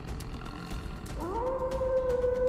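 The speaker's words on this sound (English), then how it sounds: "Oh, he's howling." A creature from the Solo Leveling anime lets out a long rising howl that climbs and then holds a loud sustained tone after a stretch of dull rumbling background.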